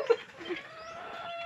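Laying hens clucking nearby, a couple of short soft clucks at the start followed by a quieter, drawn-out call, faint and without talk.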